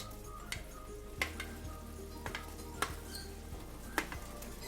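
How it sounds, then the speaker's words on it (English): Fried fish pieces go into boiling fish gravy, giving a steady low simmering bubble with several sharp clicks and taps from a utensil or pan spaced through the clip. "I am going to add the fish, the fried fish,"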